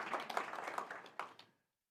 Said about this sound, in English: You can clap to that if you believe in that